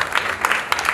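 An audience at a Togolese Akposso community gathering in Guinea claps in a brief burst of applause to welcome a reverend, close and dense.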